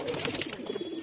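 Soft cooing and fluttering murmurs from sick, paralysed baby pigeons in a loft, a short close burst of low rolling coos over a busy background.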